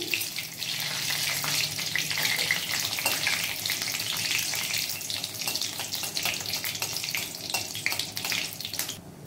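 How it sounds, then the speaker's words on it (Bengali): Poppy seed paste with nigella seeds fried and stirred in a pan, giving a steady close hiss of sizzling oil with soft scraping of a utensil throughout, no talking. "এবার এটাকে আমি ভালো করে নেড়ে নিচ্ছি।"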